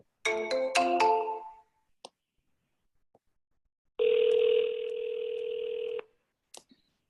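Telephone line sounds during a live sales call: a quick electronic melodic ringtone burst, a few faint clicks, then a long steady two-second ring tone, then silence with small clicks; no voices.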